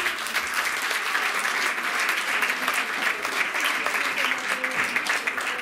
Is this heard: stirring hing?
no